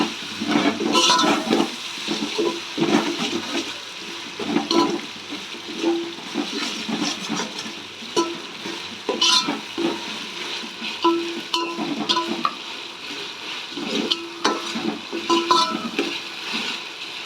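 Ginger garlic paste frying in a pan for ghee rice, a loud, steady sizzle with bursts of crackling and scraping as it is stirred, heard close up with no talk.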